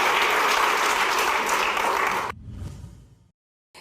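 Studio audience at a television talk show breaks into loud, dense applause that carries on steadily for a couple of seconds, then cuts off abruptly, leaving a brief lower rumble before silence.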